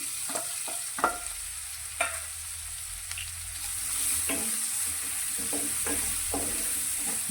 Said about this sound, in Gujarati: ડુંગળી આપણે થોડી આછી ગુલાબી રંગની થાય ત્યાં સુધી તેને આપણે મીડિયમ ગેસની ફ્લેમ પર સાતરીશું